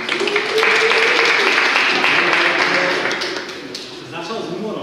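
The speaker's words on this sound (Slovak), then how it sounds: "potlesk pre vás aj pre Jakuba" Listeners at a rhetoric workshop applaud the speakers with a dense round of clapping that swells, holds, then fades and picks up again at a lower level.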